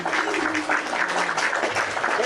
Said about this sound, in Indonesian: Berikan tepuk tangan dulu buat Kak Yuni.